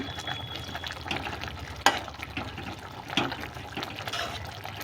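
Fish added to a pan of hot oil for a curry, frying with a steady sizzle and a couple of sharp splashes and clatters as pieces go in and are stirred.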